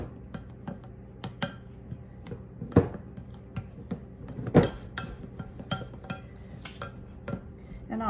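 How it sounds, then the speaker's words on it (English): Butter is worked into flour in a bowl for buttermilk biscuits, giving soft scraping and rubbing with occasional sharp clinks and knocks against the bowl, close and fairly quiet. "I'm going to mix that in just like I would if I was doing shortening in a pie crust."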